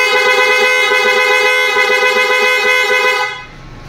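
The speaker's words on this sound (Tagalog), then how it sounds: "Busina uli kung sakali, baka naman." The horn of a Binelli Panarea 125 motorcycle, freshly rewired, blares in one loud, sustained, steady honk for over three seconds before cutting off abruptly, heard close up and alone.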